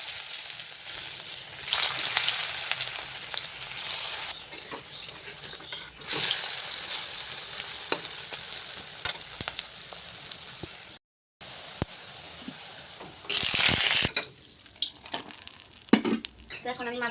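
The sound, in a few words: frying potato and onion pakoras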